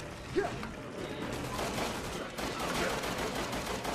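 Gunfire in the video game Resident Evil 6, a burst of rapid shots with mechanical clatter rolling under a steady noisy bed, fairly faint throughout.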